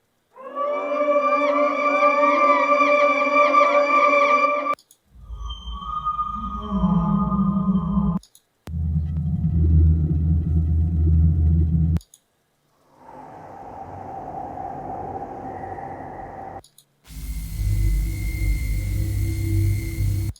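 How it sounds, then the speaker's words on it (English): A sequence of dark, eerie tonal drones, several distinct segments separated by brief pauses, some sweeping and rumbling low, others hollow and ominous. "There's sinister tones, which are a little bit darker."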